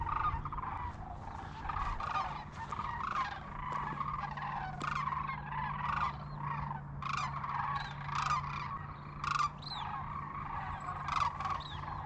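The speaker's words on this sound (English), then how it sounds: "them ducks are pretty active this morning" In the morning, a flock of ducks quacks busily in overlapping bursts, a near, continuous chatter over a low steady hum, with no one talking.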